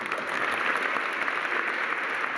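Sustained applause fills a legislative chamber at the Capitol during a speech, a dense, steady wash of clapping from a large crowd that holds at an even level throughout, with no voices breaking through.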